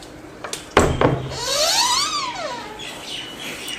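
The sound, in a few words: birds chirping outside in Delhi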